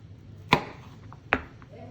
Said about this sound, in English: Cut this off for my whipped potatoes, potato puree.